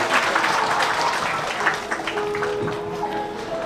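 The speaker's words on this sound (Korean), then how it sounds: "두 분께 큰 박수 한번 부탁드리도록 하겠습니다." A wedding crowd applauds the bride and groom with steady, dense clapping that holds at full strength then gradually thins toward the end.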